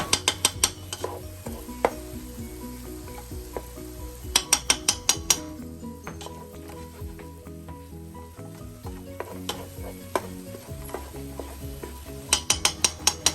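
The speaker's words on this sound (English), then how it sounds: "Let the garlic and the bay leaves cook down a little bit." Garlic and bay leaves sizzle and fry in a pot for a chicken stew, a steady close crackle with occasional sharp clicks from stirring. No voice is heard.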